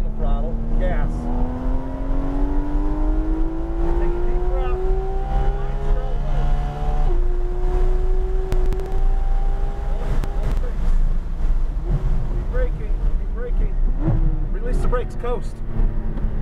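A Porsche 911 GT3 RS on the Autobahn Country Club race track pulls hard through the gears, its engine note climbing steadily, close and loud with wind rush and an instructor's voice over it.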